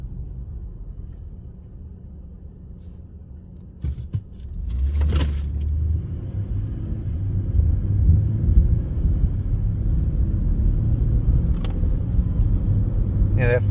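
A 2019 Ford F-150 pickup chugging in fourth gear: a brief clunk, then a low engine rumble and drone that swells and holds steady while driving, heard from inside the cab.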